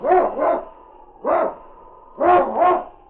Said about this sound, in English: It's Yukon King, swiftest and strongest lead dog of the Northwest, blazing the trail for Sergeant Preston